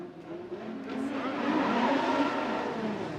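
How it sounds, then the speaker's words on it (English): A BMW E36 drift car in a Formula Drift Pro Spec top-32 battle at St. Louis, its engine roaring loud and steady with tire squeal as it swings through the run. "Let's see Talaska out front. That BMW E36. Big swing"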